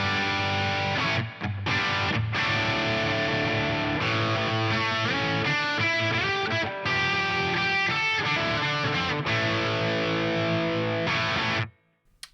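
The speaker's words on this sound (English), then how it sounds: "that will turn my reverb on and off, and I filtered the low end and the high end out of the reverb using a parametric EQ" An electric guitar plays distorted chords through a Poly Digit effects pedal with reverb whose low and high end are filtered by a parametric EQ, loud and sustained with short gaps, then the tone cuts off and a few clicks follow.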